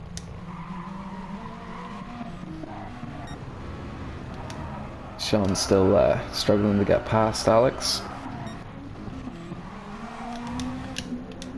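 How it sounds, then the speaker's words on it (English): Sim racing cars run close together into the last corner, engines droning with a burst of repeated sharp tire squeals and skids in the middle, under continuous commentary from a voice. "So these cars right on top of each other coming into the last corner."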